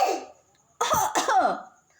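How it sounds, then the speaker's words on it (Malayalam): A child coughs twice in quick succession after a brief breathy sound, close and fairly loud, with no talking. "ചുമയുണ്ടല്ലേ"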